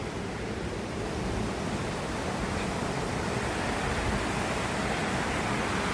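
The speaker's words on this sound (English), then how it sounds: "That is another waterfall." A waterfall at Chania, Crete, pours clean water over a beach-like spot, giving a steady, dense, broadband rush that runs unbroken and fairly loud without any voices.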